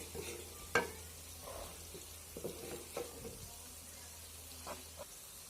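Eggs and potatoes being stirred with spices in a pan for egg biryani, soft scraping stir strokes and gentle frying sizzle at moderate level, a few sharper clinks of the spoon.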